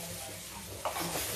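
Potatoes fry in a pan for a fasting-day dish, giving a steady sizzle close by, and a spoon scrapes through them near the end.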